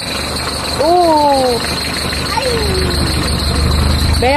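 A Renault Kangoo engine idles steadily just after being started, its loud low rumble running throughout while people talk over it with rising exclamations.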